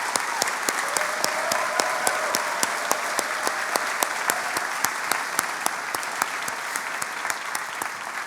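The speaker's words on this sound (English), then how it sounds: "A huge round of applause for the love and support" Audience at a medical school commencement ceremony applauding steadily, a dense, loud, sustained clapping from a large crowd without a break.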